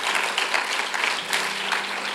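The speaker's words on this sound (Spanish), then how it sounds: "Denle un fuerte aplauso al Señor" Dense, steady applause from a large crowd at a church youth seminar, loud and sustained throughout with no pauses.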